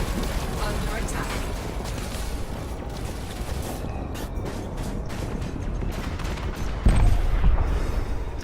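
Space combat in the video game Elite: Dangerous, with a dense, continuous wash of rapid gunfire and rumbling explosions, loud throughout and swelling into a heavier blast near the end, with a voice mixed in.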